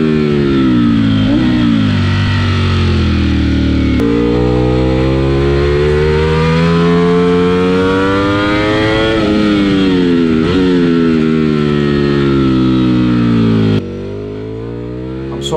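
Ducati Panigale V4 sport bike lapping a race track, its engine loud and close throughout, rising and falling in pitch through repeated gear changes and throttle sweeps, with a slight drop in level near the end.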